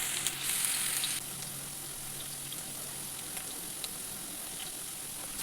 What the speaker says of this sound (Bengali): এটাকেও ভেজে নিতে হবে আলুর সঙ্গে। লাল হয়ে আসলে তারপরে তুলে নিতে হবে।